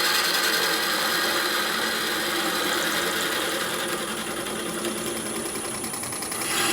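A bowl gouge cuts a maple burl bowl spinning on a wood lathe, giving a continuous, dense, hissing scrape with a steady motor hum throughout, close and even in level.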